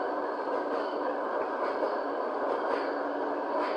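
A train runs in a European train driving simulation game, a constant broad rumble and rushing rail noise that stays steady and close from start to finish.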